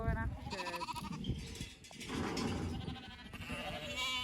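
Sheep bleating during shearing on a livestock farm, several wavering bleats close by, overlapping each other amid farmyard noise.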